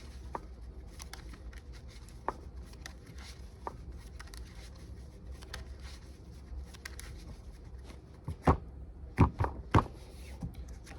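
A deck of Yu-Gi-Oh Snake Eyes trading cards is shuffled by hand, faint soft rustles and light taps at first, then a few sharper riffling snaps and flicks close by near the end, with no talk.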